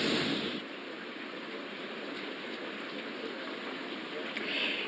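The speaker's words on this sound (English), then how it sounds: "People here in Santa Paula are contending with a torrential downpour, some street flooding as well." Torrential downpour in Santa Paula during a tropical storm with street flooding, a dense steady hiss of heavy rain that holds even and constant throughout, close and without talk.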